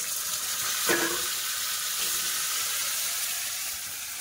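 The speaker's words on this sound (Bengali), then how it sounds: "টমেটো, পেঁয়াজ, আদা রসুন সব একটু ভালো করে ভেজে নেবো।" Tomato, onion and ginger-garlic paste frying in a pan give a loud, continuous sizzle, with a sharp crackling flare near the start.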